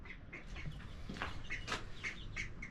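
A small backyard flock of dirty ducks gives faint, repeated quacks and chirps at an uneven rhythm over low farmyard background noise.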